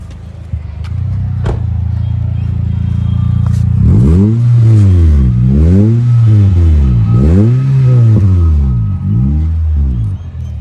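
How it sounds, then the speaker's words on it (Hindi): A modified Toyota Corolla engine idles with a deep rumble, then revs up and down repeatedly in a steady rhythm, loud and close. "थोड़ा सा आप रेव करना, मैं सुना कर आता हूँ पीछे से।"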